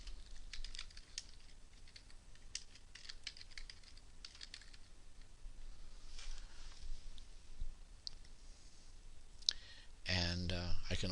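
Fairly quiet clicking from a computer keyboard as a title is typed, steady and irregular for several seconds. It ends with a short louder burst and some low-level noise.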